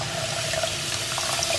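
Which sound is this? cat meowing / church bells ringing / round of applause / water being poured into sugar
water being poured into sugar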